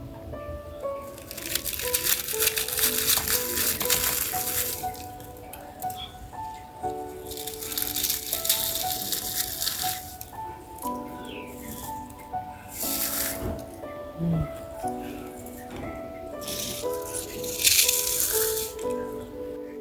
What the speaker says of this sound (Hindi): इस बाकरखानी की आवाज़ से आपको पता चल ही गया होगा कि ये कितनी ज़्यादा खस्ता और मज़ेदार बन के तैयार हुई है